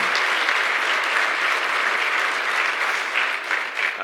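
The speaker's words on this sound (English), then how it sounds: "Let's give him a round of applause." Loud, steady applause fills the room from a luncheon audience at the Peoria State of the City address. Dense clapping runs without a break for the whole stretch, with no voices over it.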